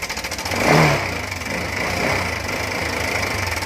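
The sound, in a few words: scooter engine running with helicopter-like noise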